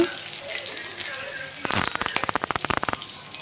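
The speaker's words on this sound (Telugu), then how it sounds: "ఆనియన్స్ కొంచెం బ్రౌన్ కలర్లో వచ్చిన తర్వాత తెల్లగడ్డ వేసుకోవాలి." Onions and garlic fry in a pan. A quiet sizzle bursts into loud, rapid crackling partway through, with close, rhythmic spatters.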